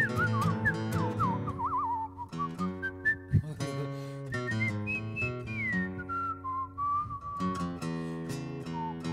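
A live performer whistles a melody on stage at a music hall concert, clear and prominent over sustained band accompaniment of guitar and keyboard, with the tune gliding and wavering through several phrases.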